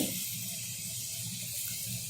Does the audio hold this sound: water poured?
yes